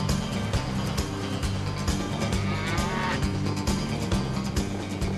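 A herd of about 60 cattle mooing on the Waikato River in New Zealand as the flooded river overflows its banks and jet skiers drive them to higher ground. The lowing is loud and layered over a constant wash of water and engine noise.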